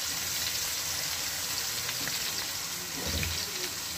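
Onions browned for an aloo methi dish fry in a pan with an even crackling sizzle, close and continuous, with a brief stirring scrape near the end and no voices.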